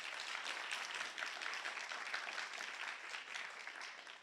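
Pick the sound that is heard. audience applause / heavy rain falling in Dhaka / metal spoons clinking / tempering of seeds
audience applause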